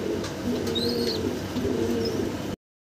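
Fancy pigeons at Babu's pigeon farm keep up a low, continuous, overlapping cooing close by, with a few faint high chirps over it and no voices.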